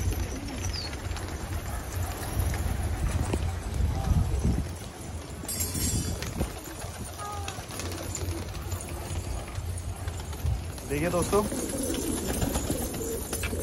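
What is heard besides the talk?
flock of about 200 Patiyala pigeons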